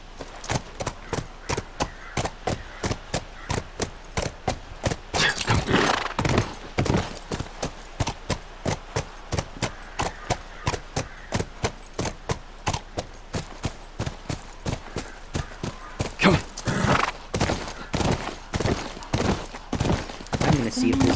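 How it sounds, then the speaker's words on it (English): Horse hooves clip-clop in a steady, brisk rhythm through The Last of Us Remastered, with louder bursts near the middle and end that may be neighing or movement; the footfalls run continuously and sit close up. "So we named Tommy's horse Callus"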